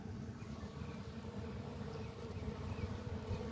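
Honey bees buzz steadily at an open hive holding pollen, nectar and capped honey during a February inspection, a dense continuous drone close by with no voices.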